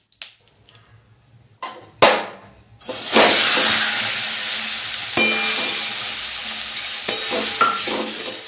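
Radhuni spice hits hot mustard oil as a tempering for a bottle gourd leaf mash and bursts into a loud, crackling sizzle that holds steadily. A few sharp utensil clacks come before it, and occasional stirring scrapes follow.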